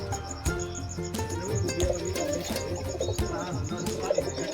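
Kept pigeons, a flock of flying breeds with some sitting on eggs, coo softly and continuously in a loft, with layered calls and light rustling at close range.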